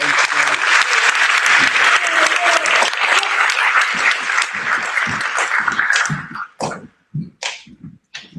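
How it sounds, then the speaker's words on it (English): A crowd claps steadily in a dense wash of applause that thins out toward the end into scattered claps and a few voices. "Let's have a round of applause for these."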